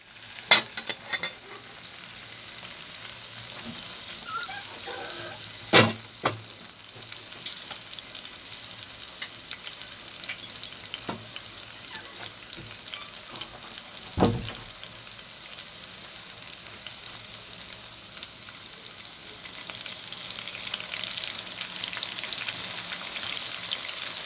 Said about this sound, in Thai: ใส่แครอทหอมหัวใหญ่แล้วก็มะเขือเทศลงไปเลยผัด